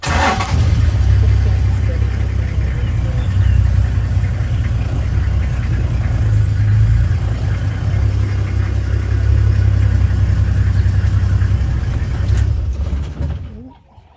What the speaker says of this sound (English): Yeah, I'll run the engine.